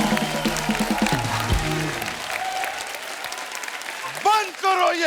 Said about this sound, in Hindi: एक बार जोरदार तालियां हमारी पूरी टीम।